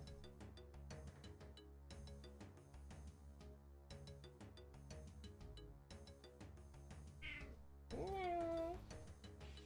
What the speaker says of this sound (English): Now the kitty's here.